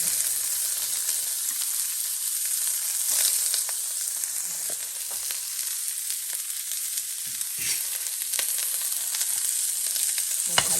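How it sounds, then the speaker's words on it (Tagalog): Chopped garlic and onion sautéing in oil in a pan for a vegetable and shrimp stir-fry, a steady bright sizzle with faint stirring taps, close and continuous, no talking. "Lagay na natin yung bawang. Ayan. Para gisa."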